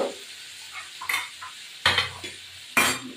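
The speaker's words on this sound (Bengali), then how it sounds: "এবারে আমি নাড়া দিচ্ছি।" Onions frying in a pan get stirred with a utensil, giving a few sharp scraping clatters against the pan over a steady sizzle, close and fairly loud.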